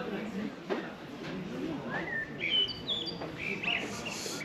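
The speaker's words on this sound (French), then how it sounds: "avec les oiseaux qui chantent." Birds sing and chirp in the evening outdoors, a few high whistled calls rising over a quiet background with faint distant talk beneath.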